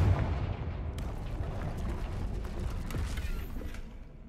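A fire-blast spell goes off in a video game with a deep, rumbling explosive boom. It settles into a sustained crackling roar of debris and rubble that fades out over a few seconds.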